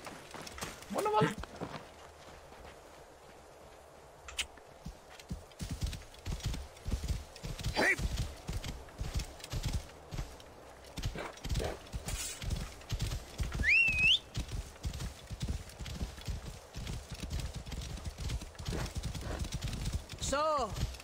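Horse galloping in the game Assassin's Creed Origins, rapid rhythmic hoofbeats close by for most of the stretch, with a whinny and a few shouts in the game mix along the way.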